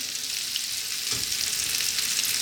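Sliced onions hit hot oil and quail cooking juices, giving a loud, continuous broadband sizzle with one brief thump partway through.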